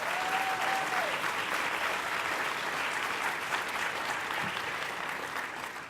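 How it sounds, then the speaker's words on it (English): An audience at an event gives a round of applause for the NYPD, a dense, steady clapping that holds for several seconds and slowly thins toward the end. "Let's give the NYPD a strong round of applause."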